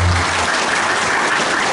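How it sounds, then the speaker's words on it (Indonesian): An audience at a junior high school arts event bursts into applause, a loud, even roll of many hands clapping together that fills the whole short stretch with no voices on top. "Tepuk tangan."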